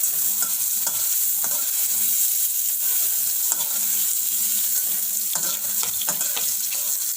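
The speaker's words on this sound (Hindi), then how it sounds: "मैं मशरूम टा भी हाई फ्लेम रे फ्राई कर दीजिए।" Mushrooms fry on a high flame in a kadhai, a constant close sizzle broken by regular scrapes of a spoon stirring, with no talking.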